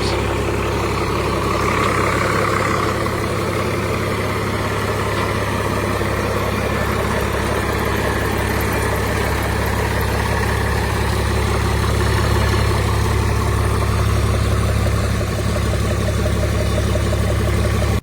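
The Cummins diesel engine of a 1968 International Harvester Loadstar truck idles steadily for a long stretch, with a constant low rumble and rattle up close and no talking.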